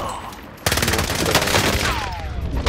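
Rapid gunfire from the Call of Duty Modern Warfare video game, a sudden loud burst of automatic shots that keeps crackling close by, with faint voices beneath it.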